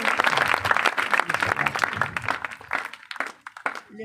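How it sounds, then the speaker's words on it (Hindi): Loud, sustained applause from a church congregation praising God after testimonies, dense clapping throughout that thins slightly near the end. "जोरदार तालियों से प्रभु की महिमा करेंगे इन गवाहियों के लिए।"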